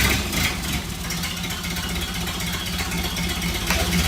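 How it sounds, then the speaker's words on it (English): A Ford Model A engine running just after being fired up for the first time, a steady loud idle with a low rhythmic throb that stays even throughout, with no voices. "One day, they fired up that engine for the first time."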